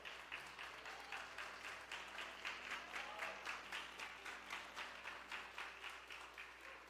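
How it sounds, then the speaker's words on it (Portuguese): A congregation at a church worship service claps steadily in a regular rhythm, a soft, somewhat distant beat of many hands that continues evenly throughout. "Fique de pé no nome de Jesus e aplauda ao Senhor, porque Ele é muito bom."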